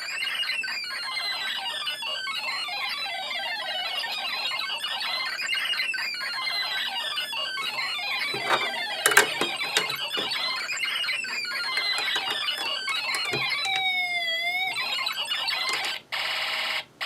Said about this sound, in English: I don't know if you guys that have alarm ICs can tell me if that's the way that's supposed to sound